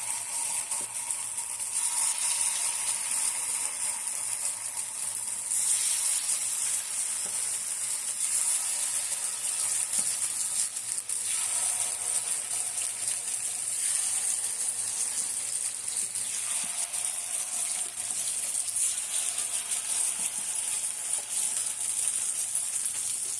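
Paniyaram batter poured into a hot pan for kara kuzhi paniyaram, hissing in a steady, close sizzle that runs the whole time, with slight swells as more batter goes in.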